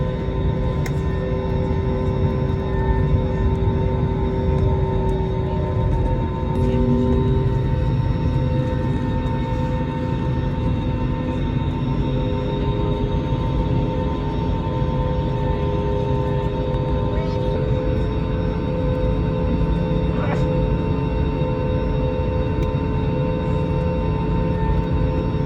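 Passenger jet cabin while taxiing toward the runway on a flight to Baltimore, Maryland, a loud, steady engine drone with tonal whine and faint rattles throughout, no talk.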